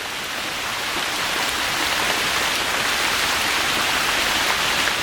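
Steady rain pours down over a dryland garden's earthworks while water runs through catchment basins below a small covered bridge, a dense, even hiss of falling drops that stays loud and constant throughout.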